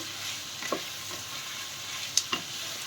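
Vegetables sauté on a high flame for penne pasta, a steady soft sizzle with a few quick stirring scrapes over it and no voices.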